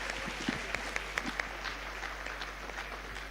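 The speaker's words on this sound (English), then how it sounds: "I think we should give a big round of applause to Dr." Audience applause at a youth programme event in Kolkata hosted with the Calcutta Management Association, a steady patter of clapping with a few sharper individual claps standing out, moderately loud throughout.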